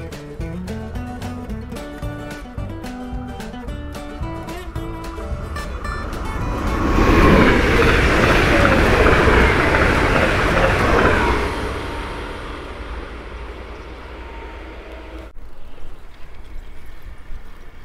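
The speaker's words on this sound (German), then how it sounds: "So, der Zug nähert sich." A train passes a lowered level-crossing barrier in the Ems countryside, a broad rushing roar swelling in then fading away, preceded by a steady ringing crossing bell.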